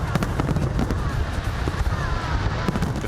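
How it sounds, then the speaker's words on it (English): New Year fireworks display over Hong Kong's Victoria Harbour, a dense, loud barrage of continuous crackling bursts and deep booms with no gaps, with a faint crowd murmur beneath. "fireworks at Victoria Harbour ushered in the new year."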